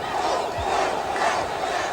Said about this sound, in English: You can hear the crowd in the background shouting, encouraging the Springboks.